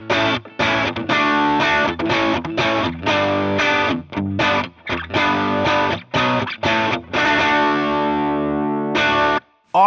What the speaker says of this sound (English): All of a sudden, I got stereo Marshall and Fender sounds.